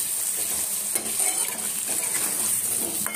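Hog plum chutney cooks in a pan, a loud, close, steady sizzle with faint scraping of a spoon being stirred through it, no talking.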